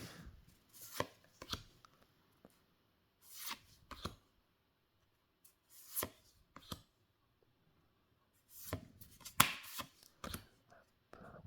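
Tarot cards riffle and snap in short crisp bursts, several shuffles separated by near silence, close and fairly quiet.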